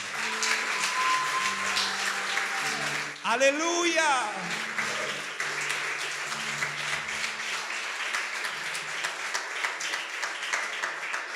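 A church congregation applauds the King in sustained, dense clapping, with a shouted exclamation and music or singing tones near the start, then steady clapping continuing loudly to the end.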